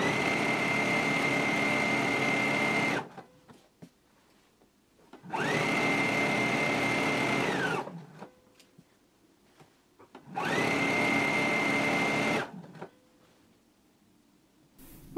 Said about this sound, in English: we can go ahead and stitch them at a 5/8 of an inch seam allowance